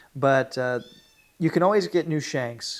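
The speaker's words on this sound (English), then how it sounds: "you can probably hear my cat meowing behind me here" A house cat meows indoors, its drawn-out cry mixed in with someone speaking nearby, close and moderately loud.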